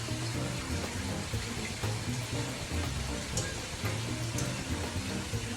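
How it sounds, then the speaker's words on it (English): A can of cold water from the fridge poured into a pot of homemade chili with tomato sauce, a continuous splashing rush of liquid under a hiss of sizzling, steady for several seconds. "And then we're gonna add a can of water."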